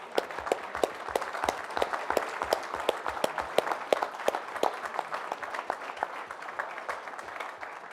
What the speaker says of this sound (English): so we could give you a round of applause